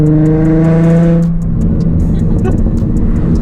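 A Nissan 350Z with a backfire exhaust tune holds a loud, high engine rev, then drops off into a rough, crackling burble with sharp popping bursts, close by.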